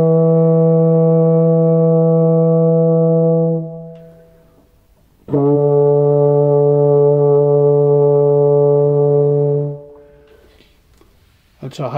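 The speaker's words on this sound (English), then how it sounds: "this time I'm going to go back to the long sound." A beginner's brass instrument plays two long sustained notes, each about four seconds, separated by a short pause. The tone is loud and steady, and a voice begins to speak right at the end.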